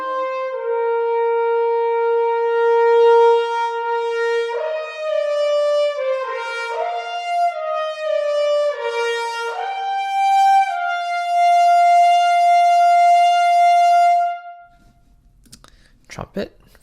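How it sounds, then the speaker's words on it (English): A trumpet from the Cinematic Studio Brass sample library plays a smooth legato melody with a warm, romantic tone, sustained notes gliding between pitches for about fourteen seconds before falling silent, followed by a few faint clicks. "Trumpet, very nice romantic tone here."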